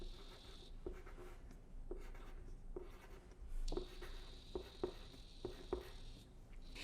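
Pen writing a word into a printed word puzzle, producing close, faint scratching strokes in a series of short separate taps and scrapes against a quiet background.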